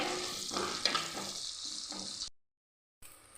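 Garlic, ginger and a handful of shallots sizzle steadily in a hot pan for a curry, a bright continuous frying hiss with stirring scrapes, cutting off abruptly near the end before briefly resuming.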